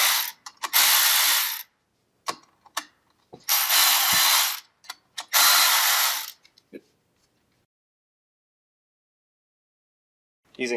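A hand ratchet fitted with a 15mm socket loosens the secondary clutch on a Polaris 850 Axys snowmobile, sounding as three loud, close bursts of rapid clicking with short ticks in between, then near silence.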